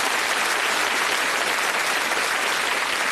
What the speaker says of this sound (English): Wonderful, enthusiastic studio audience tonight, clapping like mad